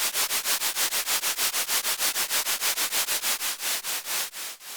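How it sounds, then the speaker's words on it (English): A Behringer 150 ring modulator produces white noise amplitude-modulated by an LFO sine wave, giving steady rhythmic bursts of hiss that swell and fade about five times per second, loud and alone. "this gives us basically an intermittent white noise as the amplitude is now modulated"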